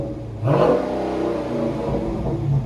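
A Dodge Charger Scat Pack with a 6.4L HEMI V8 and Dynomax Race Bullets exhaust revs up sharply to about 4,000 RPM and holds there, a loud, close, steady deep roar with no talk.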